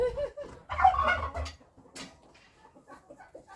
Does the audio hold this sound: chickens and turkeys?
yes